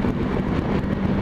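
A Honda VFR800X Crossrunner motorcycle accelerates hard with a loud, steady engine drone and wind rush, close and continuous throughout.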